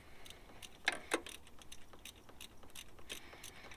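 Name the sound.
ratchet loosening car spark plugs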